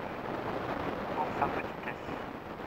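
Steady wind buffeting the microphone outdoors during a small RC helicopter flight, a continuous broadband rush with no distinct rotor sound standing out.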